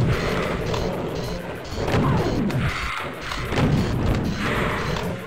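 Rocket explosions in the PC shooter Final Doom, a run of loud booming blasts and crashing impacts that recur every second or so over a dense, rumbling background of continuous gunfire and game noise.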